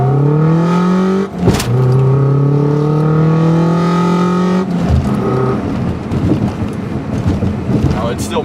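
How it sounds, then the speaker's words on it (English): A Subaru Impreza 2.5RS engine with a loud intake, revving up in steady rising sweeps from near idle, with a sharp knock and a rougher, noisier stretch toward the end, close and loud. "It still makes a lot of noise, but it's mainly because of that intake up there."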